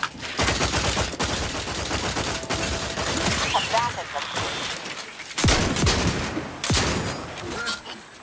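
Gunfire in the video game The Outer Worlds, with dense bursts of shots and rapid volleys that overlap one another, loud and close, alongside game sounds.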